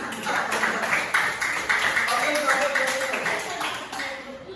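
A classroom of students clapping together, a dense, steady patter of hands that holds for several seconds, with voices talking over it.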